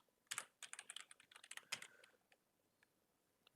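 Password typed on a computer keyboard, a close burst of quick irregular key clicks that slows and stops, followed by a pause and one last key press, no talking.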